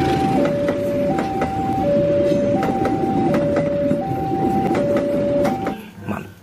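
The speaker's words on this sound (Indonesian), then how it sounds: "ada gerbong kereta api ekonomi" Economy-class railway carriages roll past with a loud, continuous rumble and repeated rhythmic clacks, under a steady alternating two-tone chime. The sound fades at the end.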